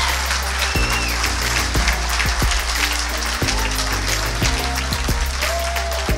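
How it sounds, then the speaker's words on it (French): A room of guests applauds Nadine, who made the table centrepieces, at a bubbles-and-oysters charity evening. Scattered clapping rises over a loud, constant background noise, with a few sharper claps standing out. "Si on veut, on peut l'applaudir,"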